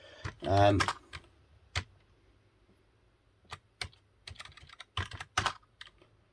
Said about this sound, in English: Sorry about the keyboard noise. I'm using a really shitty Dell one.